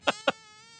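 A mosquito buzzes in a live-action anime special-effects scene: two short, sharp, buzzy bursts in quick succession, then a thin, steady whine that lingers quietly on its own.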